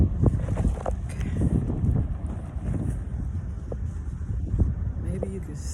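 Outdoor wind gusts roar and buffet the microphone throughout, a steady rumbling wash with occasional louder thumps, close and fairly loud with no clear speech.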